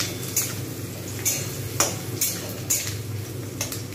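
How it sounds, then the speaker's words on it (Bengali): Onions sizzle gently in a pan for a homemade chicken and potato curry, a soft steady fry under repeated light clinks of a spatula stirring at regular intervals. "আর এদিকে পেঁয়াজটা সুন্দরভাবে ভাজা হচ্ছে।"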